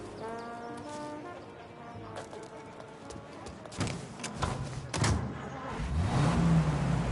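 A vintage car in the Mafia game sounds a low horn, then its engine rumbles and rises as it pulls away, with clopping hooves and street noise around it.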